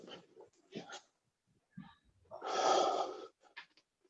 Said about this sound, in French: Expire, inspire.